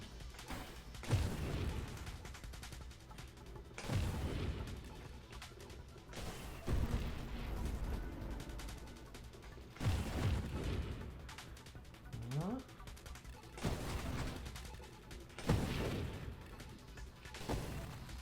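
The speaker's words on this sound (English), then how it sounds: "A lot of screen explosions." Repeated bursts of on-screen explosions from a giant cannon build in the space shooter Nova Drift, played in ultra co-op, thudding every few seconds under a steady game soundscape while a player talks over it.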